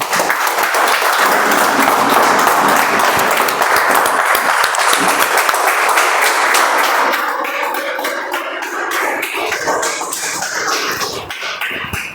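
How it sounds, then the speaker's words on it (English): A Toastmasters meeting audience claps for a speaker, a steady, dense round of applause that holds strong for several seconds, then thins and tapers off toward the end. "Can we have a huge round of applause for Janvi once again?"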